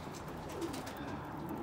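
Pigeons coo softly in a breeding loft of retired racing birds, low murmuring calls overlapping against a steady background hiss, faint and continuous.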